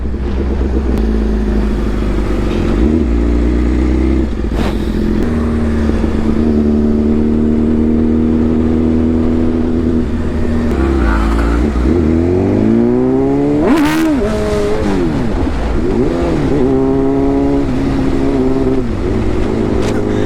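Sportbike engine, a BMW S1000RR or Yamaha R15, droning loud and close during a wheelie at 70–80 km/h, holding steady pitch before revving up and down in sweeping surges.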